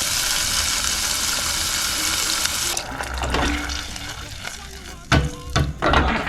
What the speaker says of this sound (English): So we're gonna add the sauce to the pot.